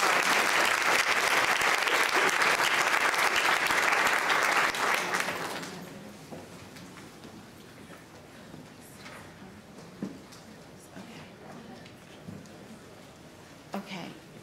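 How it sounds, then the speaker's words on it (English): Audience applause at a county spelling bee after the end of a round, loud and sustained for about five seconds before dying away into quiet room noise with a few scattered sounds. "Let's give a round of applause."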